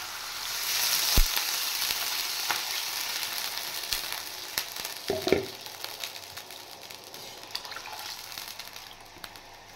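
Washed red lentils and water go into a hot pan of tempered spices, giving a steady close sizzle and frying hiss with a few sharp clatters and splashes, no talking.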